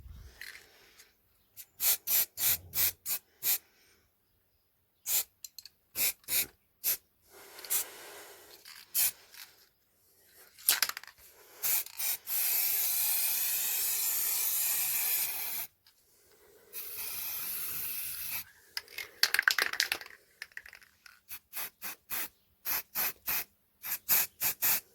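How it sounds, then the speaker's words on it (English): Can of Citadel Chaos Black primer spraying in repeated hissing bursts, several short quick puffs and a few longer sustained sprays of a few seconds, close and with no speech. "If the spray can is empty, for this instance Citadel Chaos Black"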